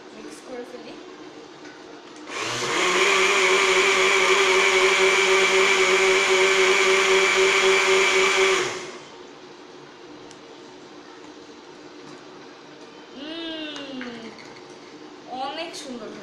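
A blender mixing a milkshake roars loud and steady for about six seconds, starting and cutting off sharply, with someone talking quietly before and after it runs.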